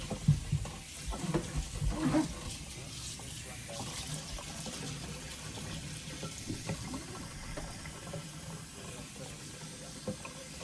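Tap water runs steadily into a kitchen sink to flush debris away from the drain trap, a continuous broadband wash at moderate level with faint scattered clatter and no voices.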